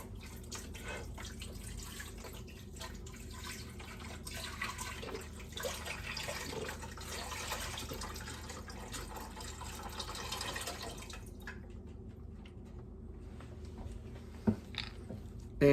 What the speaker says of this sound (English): Then you're going to add your vegetable broth.